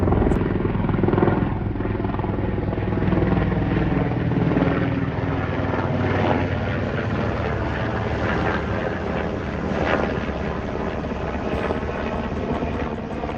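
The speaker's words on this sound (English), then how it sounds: "Of course, a helicopter flies over." A helicopter passes overhead at a residential yard, its steady rotor thrum loud and continuous for the whole stretch, with no voices over it.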